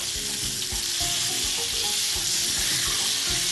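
Liver fries in a pan over low heat, giving a continuous close sizzle with soft crackles and occasional stirring taps.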